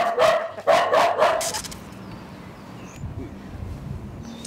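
Several dogs bark in a wealthy neighbourhood in Brazil, a burst of loud, close barks in the first second and a half, then quieter background noise with faint sounds for the rest.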